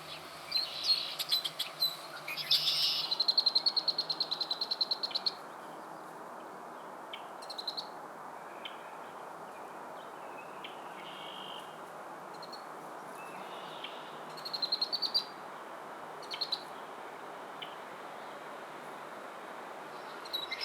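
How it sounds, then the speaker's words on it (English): Birds call around a beaver pond in spring, with a few bright chirping bursts and scattered tweets rising over a soft, constant outdoor background, heard alone and at moderate distance. "Bird life abounds here, especially in spring."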